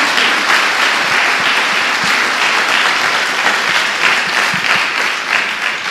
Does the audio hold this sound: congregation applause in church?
yes